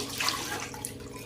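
Water, about one to one and a half litres, poured into a wok on a lit gas stove, making a steady, close rush and splash that continues without pause.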